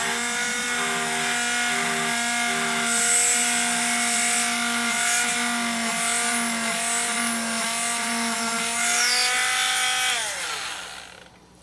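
An electric hand drill bores into a small resin pin with a steady high whine for about ten seconds before spinning down and stopping.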